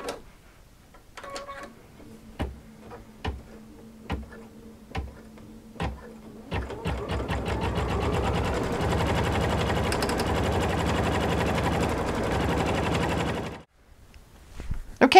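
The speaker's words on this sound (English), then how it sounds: "let's let it stitch out the Christmas trees" An embroidery machine stitches out Christmas tree designs, green thread on red fabric: a few separate needle taps at first, then a long steady run of fast, loud rhythmic clatter that stops abruptly, followed by quiet handling.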